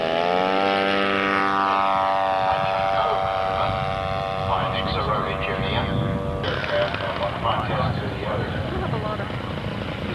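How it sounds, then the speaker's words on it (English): A scale model SNJ-5C propeller aircraft comes in to land at a Top Gun 1991 model contest. Its engine drones steadily with shifting pitch, fairly close, and a voice speaks over it. "The Zeroli team scale landing their SNJ-5C"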